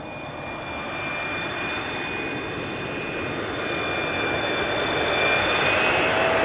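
Jet airliner roaring steadily at Amsterdam Schiphol Airport, heard from a close spotting location as it takes off or lands, a loud broadband rumble with a faint high whine that builds gradually over several seconds, with no talk.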